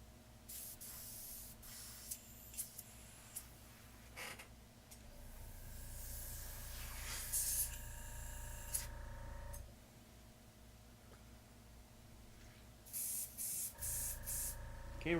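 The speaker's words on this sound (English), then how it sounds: "Okay, we're getting a good spray." Spray paint hisses onto an MG 1/100 Sinanju model robot kit in repeated short and long bursts over a steady low hum, fairly close and loud, with no talking.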